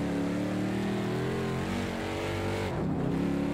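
Mercedes-Benz 300 SEL engine in Project Cars 2 at historic Spa-Francorchamps, holding a loud, steady droning note as the car crosses the finish line, with a brief dip near the end before the roar resumes.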